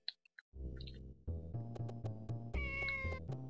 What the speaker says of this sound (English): Ah, cats! Get away from me, cats!